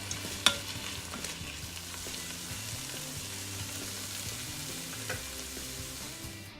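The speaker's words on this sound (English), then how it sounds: "A little fresh cilantro. Dump it back in. Stir it all up." Pork carnitas with fresh cilantro are stirred in a Ninja Foodi, a continuous soft sizzle and fry with a sharp utensil knock near the start and faint scraping stirs, close and without talk.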